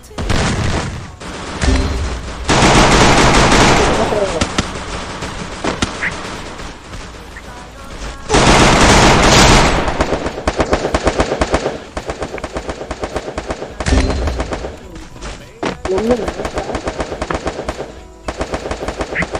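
Automatic gunfire in the shooter game Free Fire: long bursts of rapid, loud shots with short gaps between them, repeating across the whole stretch, with game effects mixed in.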